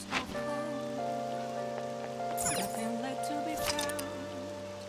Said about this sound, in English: it is raining outside